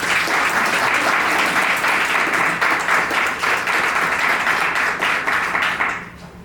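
Steady applause from a crowd at a public event honoring speakers, dense and sustained for several seconds before fading at the end.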